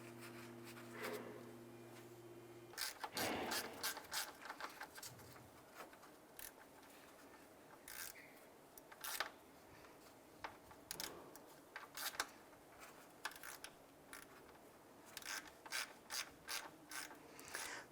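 Ratchet clicking as cooling fan shroud bolts are snugged on a 2001-2005 Honda Civic, plastic fastened to plastic; a quick burst of ratchet clicks is followed by several short irregular runs of clicking with pauses, close and fairly loud.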